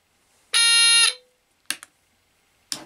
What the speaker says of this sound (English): you'd have it test its working with the red light and the buzzer